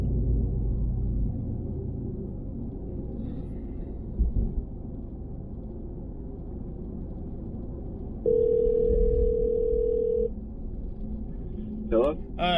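A steady telephone ringback tone sounds for about two seconds while a phone call is placed from a vehicle, followed by a short rising electronic chirp, over constant low engine rumble.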